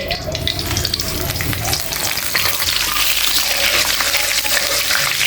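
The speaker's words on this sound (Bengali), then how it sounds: "এই তেলের মধ্যে দিয়ে দেবো তেজপাতা, গোটা লঙ্কা আর" Bay leaf, whole dried chilli and panch phoron hit hot oil, giving a loud, continuous close sizzle and crackle that builds and holds throughout.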